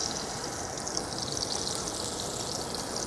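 Steak sears in an oiled pan with a dense, even crackling sizzle that holds steady throughout at close range.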